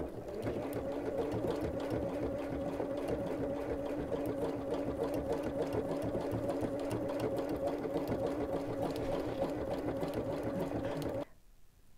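A sewing machine stitches lettering onto fabric with no presser foot, a steady, fast, close mechanical whir running for about eleven seconds and then stopping abruptly.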